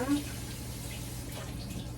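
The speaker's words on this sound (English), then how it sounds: "the reason I run the cold water over the ackee is to keep it together" Cold tap water runs steadily over ackee in a kitchen, a continuous hissing splash close by with a faint hum underneath, no clear talk.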